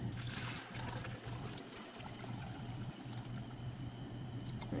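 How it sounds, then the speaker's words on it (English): Cannoli ice cream base with ricotta and stevia being poured through a fine strainer, a steady close trickle and dribble of liquid running continuously with a low hum in the background. "And then we are going to pour it through a strainer."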